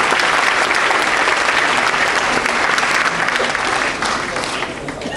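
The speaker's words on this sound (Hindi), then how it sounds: "एक बार जोरदार तालियों के साथ उनका" Audience applause welcoming Amit Shah at a Meri Maati Mera Desh event, a loud, dense wash of clapping from a large crowd that holds steady and then tapers slightly toward the end.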